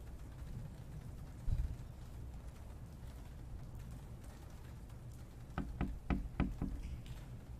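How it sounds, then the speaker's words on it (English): Knocking in the Late Night Mop game: a quiet, dark ambient hum, then a single dull thud early on and a rapid run of four or five sharp knocks near the end, fairly faint. "But there's a whole lot of knocking."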